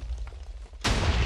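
A sudden loud blast from exploding TNT in Minecraft cuts in after a quiet low rumble, the harsh, noisy burst lingering broadly to the end.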